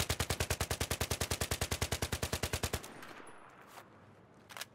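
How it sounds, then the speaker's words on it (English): Scar-L assault rifle in Battlefield 3 fired on full auto in one long steady burst of about thirty rapid loud shots, then a short fading tail and a few scattered clicks. "But for now, let's just fire this thing up."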